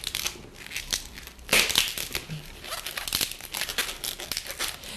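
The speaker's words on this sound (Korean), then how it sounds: "지금 이 상태의 풍선을 조금은 위험하겠지만 눌러서 반으로 나눠주도록 하겠습니다" Latex balloon being squeezed and twisted hard to split it into two bubbles, giving dense rubbery squeaks and crinkling rasps that run continuously and close up, with no voice.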